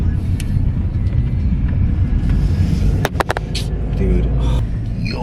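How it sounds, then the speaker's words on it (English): Heavy road traffic rumbles loud and close in a continuous low roar, with passing vehicles and a few brief clicks and knocks cutting through near the middle. "that traffic is crazy"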